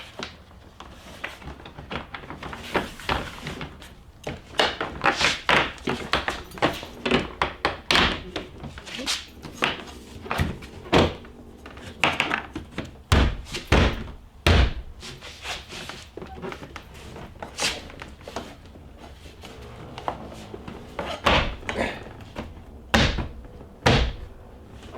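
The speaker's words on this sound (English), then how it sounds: "now just place the door panel back on here" A Jeep Grand Cherokee door panel, 1999–2004 model, being pressed back into place: a long run of sharp thunks and knocks, irregular and close, some clustered in quick bursts, with no talking.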